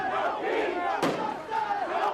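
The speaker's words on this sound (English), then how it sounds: "A Minneapolis police precinct on fire and a furious crowd calling for justice." A furious crowd of protesters in Minneapolis shouting and yelling together, a dense roar of many voices with a sharper surge of cries near the middle.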